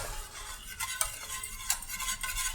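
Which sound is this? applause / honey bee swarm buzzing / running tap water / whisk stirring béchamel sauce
whisk stirring béchamel sauce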